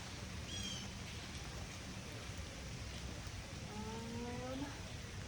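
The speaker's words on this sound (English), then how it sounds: "the rain just came for a couple seconds" A brief rain shower patters steadily on an outdoor garden planting area, a broad even hiss of falling drops that continues throughout, with a faint cow-like low call near the end.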